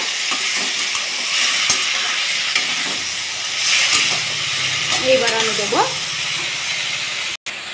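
Bottle gourd curry with a little sugar being stirred in a pan, a steady frying sizzle with clinks and scrapes of the spoon throughout, and a faint voice briefly under it.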